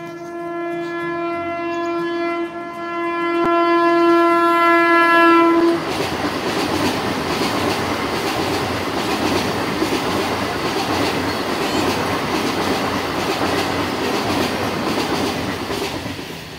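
A train passes a level crossing on the Sealdah–Krishnanagar line near Ranaghat, West Bengal, opening with a long loud horn blast and then giving way to a steady, close roar of wagons rolling by for many seconds.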